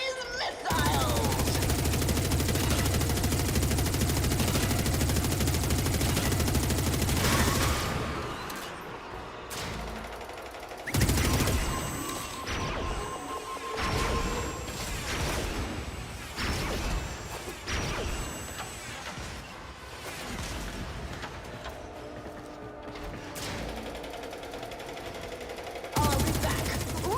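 Missiles and gunfire in the sci-fi shooter Warframe make a loud, dense barrage of rapid shots and blasts that cuts out abruptly, leaving scattered impacts, whooshes and mechanical clanks before a final burst.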